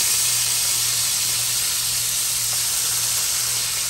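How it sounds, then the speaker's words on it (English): Bacon sizzles in a frying pan as a steady, even hiss of fat that holds at one level from start to finish, with no talk over it. "I'm just going to flip my bacon over here."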